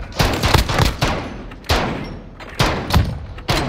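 Repeated heavy shotgun blasts in Call of Duty Modern Warfare, four loud booming shots spaced roughly a second apart, each with a sharp attack and a short rumbling tail.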